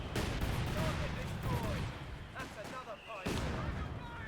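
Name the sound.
mortar fire clearing a mine field in Company of Heroes 2 video game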